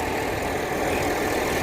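Farm tractor engine idling out in a windy field, a steady, loud low rumble blended with broadband wind noise, continuous throughout with no voices.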